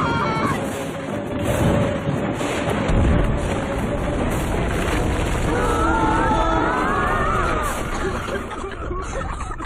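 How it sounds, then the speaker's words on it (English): Cartoon meteor shower impacts and an earthquake rumble on an alien planet: a dense, loud, continuous wash of crashing booms and rumbling over roughly ten seconds, with a low thud near the start and high whistling streaks later. "That must have been an earthquake."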